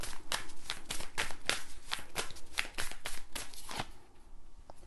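Tarot cards being shuffled by hand, a rapid series of crisp riffling slaps and flicks at close range, tapering off at the end.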